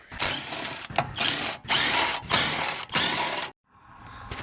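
Lug bolts being removed from the wheel of a BMW E46 with a power tool, several loud whirring bursts close up separated by short gaps, followed by a quieter rattle.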